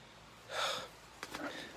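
A short, breathy cough bursts out once, followed by a smaller rasping catch a moment later, close and faint against a quiet room.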